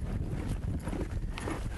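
A horse's hooves stepping on dirt during cutting horse training, with muffled irregular thuds close by under steady background noise.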